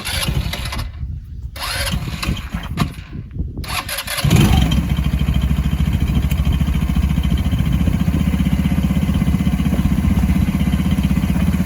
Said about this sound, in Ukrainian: Ось так працює одноциліндровий движок, звичайний китайський на карбюраторі.